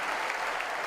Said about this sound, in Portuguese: vamos levantar uma grande salva de palmas